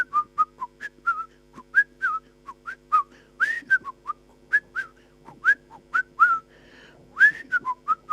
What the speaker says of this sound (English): He whistles. He whistles.